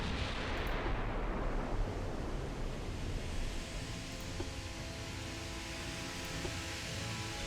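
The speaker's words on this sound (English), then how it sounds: "Come on, 15-inch guns." Fifteen-inch naval guns of a battlecruiser fire in the Ultimate Admiral Dreadnoughts naval game, a heavy booming blast at the start that rolls into a long, loud, continuous rumble with no speech.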